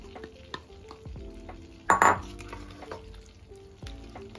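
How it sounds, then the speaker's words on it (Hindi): Yogurt is stirred into butter chicken masala in a pan, a soft frying sizzle with scattered spoon scrapes and clinks and one louder burst of stirring midway. "जो दही बना के रखा था वो डाल देंगे।"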